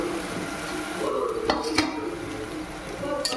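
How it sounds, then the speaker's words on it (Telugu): Spices stirred into cauliflower frying in a pan, a steady sizzle with scraping spoon strokes and a couple of sharp clinks against the pan near the middle. "కొంచెం జీలకర్ర ధనియాల పొడి వేసి బాగా కలిపుకుందాం"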